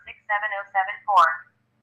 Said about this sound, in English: No, that's just somebody trying to call.